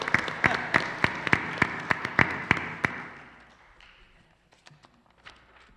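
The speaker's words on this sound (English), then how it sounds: "You can clap for that." Sparse clapping from a small audience at a district candidate forum in a high school, a dozen or so distinct, fairly close hand claps over three seconds before fading into quiet room noise with a few stray taps.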